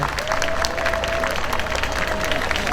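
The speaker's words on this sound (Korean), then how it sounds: "박수 한번 좀 쳐주시기 바랍니다" Applause from an outdoor festival audience at Gwanghwamun Square during a welcome speech, a steady dense crowd clapping throughout with a faint sustained tone running beneath it.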